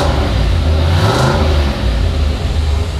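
Turbocharged LS-engined minitruck runs loud and close, its engine droning with a rise and fall in revs through the middle, no talking.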